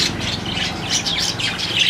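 Caged birds at a busy bird market in Multan chirp and squawk without pause, many high calls overlapping into a steady, fairly loud chorus.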